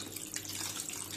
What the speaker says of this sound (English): now immediately we are going to add cold water